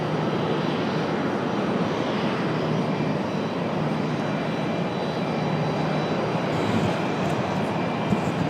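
An Embraer ERJ jet airliner at Raleigh Durham International Airport gives off a steady, loud engine roar that holds level throughout with no talk over it.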